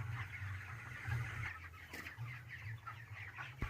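Broiler chickens about 26 days old cluck steadily inside a poultry farm shed, a dense chorus of overlapping calls over a constant low mechanical hum, with no one speaking.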